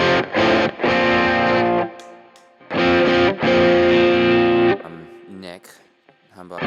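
Electric guitar driven through a Tube Screamer overdrive pedal, playing loud sustained distorted chords in two bursts with short gaps and a few brief picked notes between.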